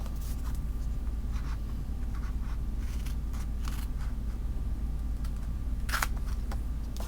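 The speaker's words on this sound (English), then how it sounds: "I like to kind of turn it over to the back and trim it off." Paper is trimmed off the edge of a Christmas card, giving soft scratchy cutting and rustling strokes in short irregular bursts over a steady low background hum, close and fairly quiet.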